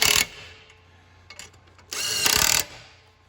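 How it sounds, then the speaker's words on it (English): Impact wrench tightening a nylock nut on a Harley-Davidson Sportster seat mount, two close, loud bursts of whirring and hammering separated by a quieter pause with faint clicks. "I use an impact because it's way quicker, or you can use a wrench, whatever you like, and tighten down this nylock"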